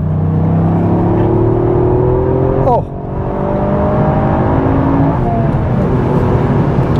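A Toyota GR Yaris engine climbs in revs under hard acceleration, a loud rising drone from inside the car that jumps at a gear change and keeps pulling, with a brief exclamation over it.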